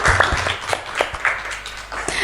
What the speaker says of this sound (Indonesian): Sekali lagi tepuk tangan buat kamu semuanya.